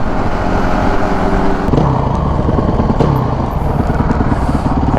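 A motorcycle with a stock exhaust rumbles steadily and loudly while riding, its low engine drone continuous throughout alongside road noise.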